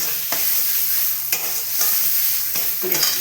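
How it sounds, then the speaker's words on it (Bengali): Dried red chillies fry as a tempering for chana masala: a loud, dense hiss of hot oil up close, broken by a few scraping stirs, no voices. "প্রথমে শুকনো লঙ্কা ফোড়ন দিয়েছি"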